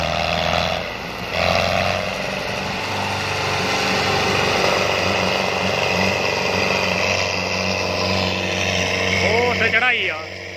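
A 5911 tractor on big 17.9-28 rear tyres hauls a fully loaded 12-foot trolley of soil, its engine droning loudly and steadily throughout while people talk over it.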